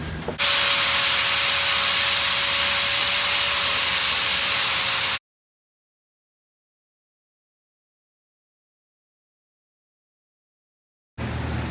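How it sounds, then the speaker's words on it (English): An angle grinder works over a weld, a loud steady high whine that runs for about five seconds and then cuts to silence, with the grinder briefly starting again at the end. "Now you're going to grind it again."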